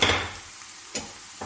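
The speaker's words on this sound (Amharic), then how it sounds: "ሽንኩርቱ እንደዚህ ጥብስ አረኩትኝ" Onions frying in a pan with a soft steady sizzle, scraped by a spoon a few times, two sharp stirring strokes standing out near the end, close and fairly quiet.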